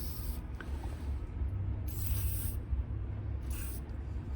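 Short hissing bursts of an aerosol spray on stuck fittings of a 1920s industrial window, three quick sprays separated by pauses, close by over a low rumbling background.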